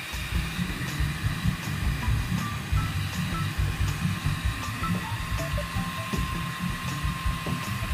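New snail-type fan blower running steadily on a homemade used-oil stove, a constant whooshing drone with a faint high whine, moderately close and uninterrupted, no voices.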